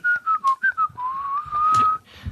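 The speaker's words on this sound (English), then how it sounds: "Are you the tuneless whistling guy, Rick?" A person whistles tunelessly, with several short chirpy notes followed by a longer wavering held tone, close and clear with no other sound.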